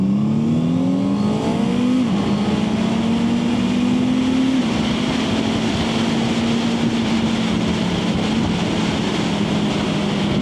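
Honda CB650R motorcycle engine at low RPM during slow shifting, a steady close engine hum with a brief rev change and shift dip early on, continuous and alone.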